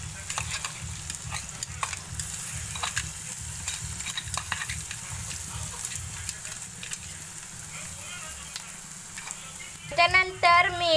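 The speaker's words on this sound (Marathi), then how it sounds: "आता मी हिरवी मिरचीची पेस्ट आणि लसणाची पेस्ट टाकून घेते." Onion frying in a pan with green chili paste and garlic paste, giving a steady close sizzle with rhythmic stirring scrapes, and someone speaking briefly near the end.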